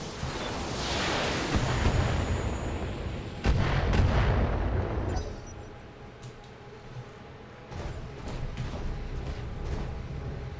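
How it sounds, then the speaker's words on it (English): Heavy mech weapons fire in the video game BattleTech, booming blasts and rumbling explosions layered densely at first, then sharper intermittent impacts and mechanical clanks, loud with no talking. "Taking the shot."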